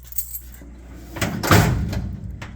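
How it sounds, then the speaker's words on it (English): A metal file cabinet drawer in a workshop glides out on its slides, a short rolling scrape rising to a louder rumble midway, with a light metallic rattle. "File cabinets slide out just like a toolbox."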